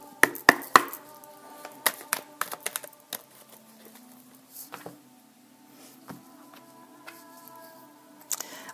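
Oracle cards being cut and shuffled, giving a run of sharp crisp taps and flicks clustered early, then sparser soft slides and snaps with quiet gaps between.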